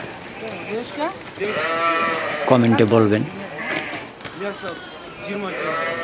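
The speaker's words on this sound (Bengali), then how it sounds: "এই যে এইসব সব এইখানে ছাগল বিক্রি করে" Goats bleat loudly in wavering cries at a goat market in Kyrgyzstan, one strong call in the middle among others, while a person talks over the noise.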